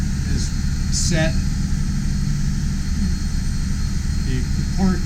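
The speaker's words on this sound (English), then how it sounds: "The main engine is turned on." The main engine of a Nordhavn 57 motor yacht runs underway offshore, a loud, steady low drone and rumble heard from inside the engine room, with brief voices breaking in now and then.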